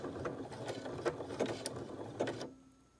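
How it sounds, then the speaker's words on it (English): A sewing machine runs a zigzag stitch across a fabric face mask with a pipe cleaner inside, giving a quick rhythmic needle clatter with small mechanical clicks, close up, then stopping suddenly near the end. "So as I start sewing"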